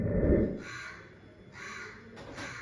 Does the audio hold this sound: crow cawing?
yes